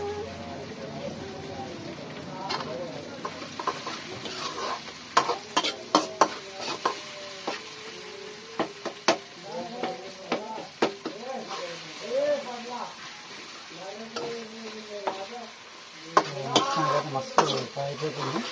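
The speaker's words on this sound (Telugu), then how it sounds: "చూడండి ఇట్లయితే మస్తు ఫ్రై అయిపోతున్నాయి." Mutton curry masala fries in a pan while a spoon scrapes and stirs, with a steady sizzle and sharp irregular clacks throughout. A voice talks over much of it.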